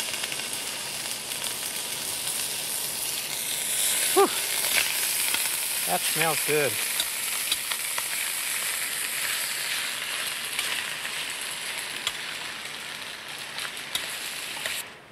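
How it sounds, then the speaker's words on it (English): Three pounds of chili meat browns in hot oil in a pot, giving a steady loud sizzle and crackle throughout, while a man briefly exclaims and speaks over it. "You hear it sizzle."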